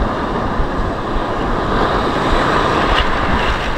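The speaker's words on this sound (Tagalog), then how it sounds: "ang lalaki ng alon dito" Big sea waves roll and crash at an island fishing spot, a steady loud wash of surf noise with continuous broadband roar and no speech, as if heard close to the shore.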